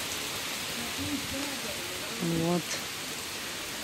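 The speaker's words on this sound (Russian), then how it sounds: "У нас дождь льет." Heavy rain pours on a morning in Zhelezny Port, a Black Sea resort village, a dense steady hiss filling the whole scene, with a voice briefly heard over it.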